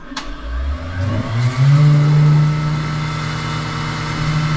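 A machine spindle spins up for machining Ford 530 feed fork bushings. It rises quickly from a low rumble to a loud, steady high whine and then holds its speed, with no talk.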